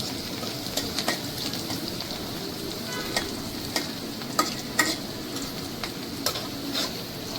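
Chinese vegetables stir-frying in a home kitchen, a steady sizzle with scattered clinks and scrapes of a spatula stirring the pan, close and continuous with no talking.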